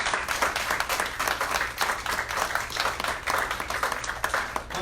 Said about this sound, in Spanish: Celebra al Señor con un aplauso, pero de corazón.